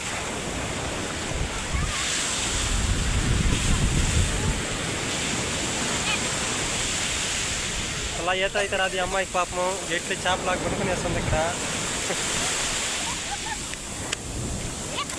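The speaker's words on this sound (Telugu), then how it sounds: "అలలు మాత్రం బాగా వస్తున్నాయి" Sea waves roll and wash steadily at Pambal beach on a sunny day, a continuous broad surf roar, with a person talking over the water partway through.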